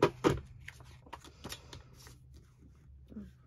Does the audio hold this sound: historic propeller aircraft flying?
no